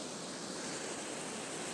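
Sea surf murmurs below a rocky evening cliff, a steady broad wash of soft hiss that stays even and unbroken, with no voices over it.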